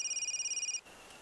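A telephone rings in a quick pulsing electronic pattern for under a second and then cuts off, leaving a quiet room hum.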